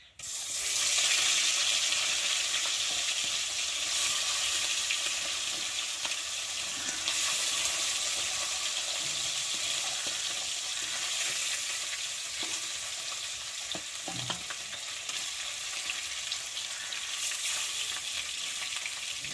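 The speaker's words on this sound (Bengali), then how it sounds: "এই যে নুন হলুদ মাখিয়ে রাখা মাছগুলো দিয়ে একে একে ভেজে নেব" Salted, turmeric-coated fish pieces fry in hot oil in a kadai, a loud steady sizzle running throughout with brief spatters and a few clinks near the middle.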